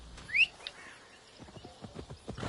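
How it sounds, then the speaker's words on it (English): A horse in Assassin's Creed Valhalla: a short high whinny or whistle near the start, then a run of light clip-clop hoof steps that speed up, faint and with no talk. "Let's grab our horse."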